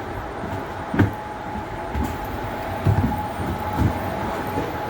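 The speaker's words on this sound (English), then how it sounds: "the Tangaras, the famous trains" Onboard a Sydney Tangara double-deck commuter train, a steady rail rumble with a few dull thumps and clunks from the wheels and car body rolls on without talk.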